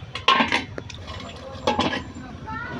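A metal lid clatters onto a pot of dal cooking with potatoes and eggs, two distinct clanks with utensil clinks, heard close and alongside someone speaking.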